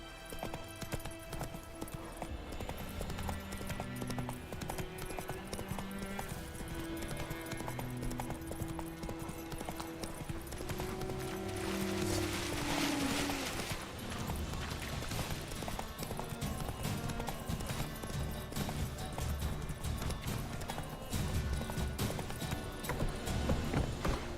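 Hooves of the horse Roach clip-clop in a steady trotting rhythm in a video game, moderately loud over continuous game music and ambience, with no talk.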